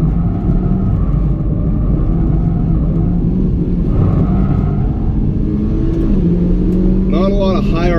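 Mitsubishi Lancer Evo MR engine revving in manual mode while driven around a figure-eight course, a steady loud rumble with rising and shifting engine tones throughout and a sharp pitch climb near the end.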